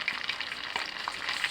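Fenugreek seeds sizzling in hot oil while homemade hair oil is cooked, a steady soft frying hiss with small crackling pops, close and quiet, no talking.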